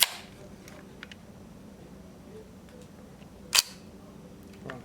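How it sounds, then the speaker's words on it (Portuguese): Film camera shutter clicks, two sharp isolated snaps about three and a half seconds apart over a quiet room background, close, with faint tiny mechanical ticks between them. "E na hora do clique, ó, abria essa cortina do obturador."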